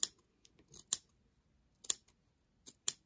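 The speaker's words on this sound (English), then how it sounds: "put your tips of your scissors in right where you want to cut, and just cut all the way along" Scissors cut along the woven backing of white fur fabric for a Santa suit, giving a few sharp, close snips and crunching cuts spaced irregularly over quiet pauses.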